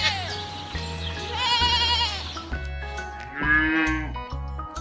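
A goat gives two wavering bleats, the first longer and the second shorter, clear and near, over a steady upbeat music track.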